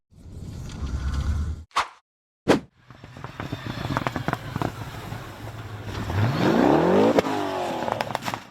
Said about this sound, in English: blue and white off-road vehicle sped along a dirt track. As it entered a sharp turn, the tires lost traction